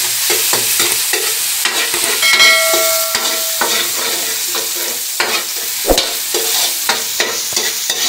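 Ginger sizzles loudly in hot oil in a pan while being cooked for sinigang, a constant close frying hiss with spatula scrapes and taps stirring through it and a short clatter along the way.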